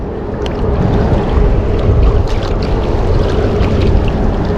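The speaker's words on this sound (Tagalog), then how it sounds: "Nalakas na rin ang hangin." Strong wind buffets a small fishing boat at sea, with a steady, loud roar of wind noise and water washing around the hull, continuous and close throughout, no talking.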